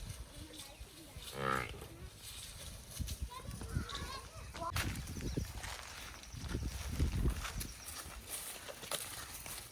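Hungry buffaloes low on a farm at feeding time, several deep moos rising over the background with hoof steps and people talking nearby.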